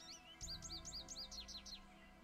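A recorded bird call plays from a tape in the Nancy Drew: Ghost Dogs of Moon Lake game, a quick series of about eight bright, repeated chirping notes at even spacing over a low steady hum. It is faint, with no voices.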